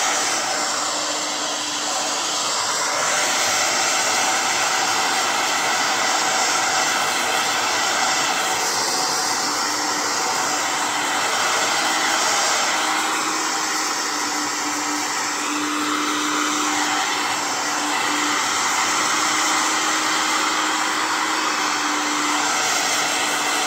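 A thrift-store hair dryer, used for drying watercolor artwork, blows with a steady loud whooshing roar and a constant motor whine, running unbroken and close throughout with no speech.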